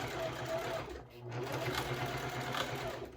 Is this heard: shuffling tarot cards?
no